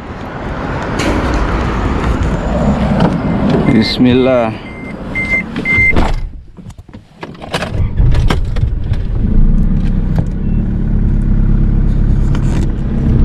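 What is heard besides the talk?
car driving on road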